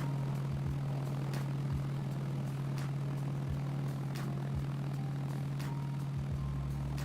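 The propeller engine of a Caesar light plane in the game Arma 3 drones steadily and close, a constant low hum with periodic faint clicks throughout and no voices.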